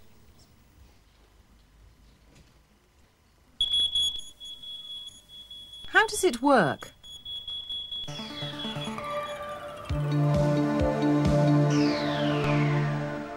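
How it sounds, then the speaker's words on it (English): A loud, piercing smoke alarm shrills in steady electronic beeps, rising and sweeping, close by, with a brief spoken question before it starts. "This is a smoke detector."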